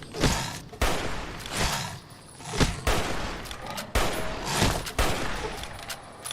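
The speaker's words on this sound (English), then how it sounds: "I'm shooting at point blank range, Fallout." Repeated point-blank gunfire in Fallout New Vegas, Old World Blues DLC: loud, sharp shots fired in uneven bursts roughly every half second to second, with no voices.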